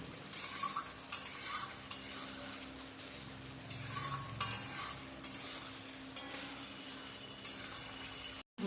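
Spice paste fries in oil for a katla fish and yogurt curry, a close crackling sizzle broken by bursts of louder spitting and the scrape of a spoon stirring, ending in a brief clatter.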